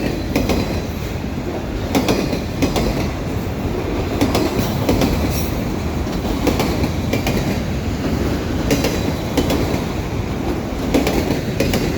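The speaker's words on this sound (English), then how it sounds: "here this train was, just waiting to come through." A CN auto rack freight train rolls past at Dorval, Quebec in winter, a continuous close rumble with rhythmic clickety-clack wheel beats and occasional metallic squeals throughout.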